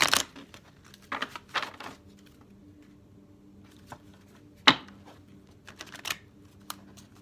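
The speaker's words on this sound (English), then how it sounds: "These are a little bit cumbersome, so I'm going to give it a couple extra shuffles." Thick oracle cards being shuffled in several short riffling bursts, close and crisp, separated by quieter pauses, with no talking.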